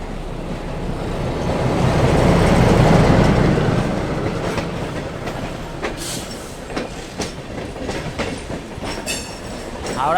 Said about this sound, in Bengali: ডাউনে আর একটা ট্রেন ঢুকছে